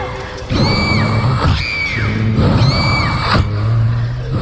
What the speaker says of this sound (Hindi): दर्द के मारे कलीथा जमीन पर बैठकर चिल्लाने लगी।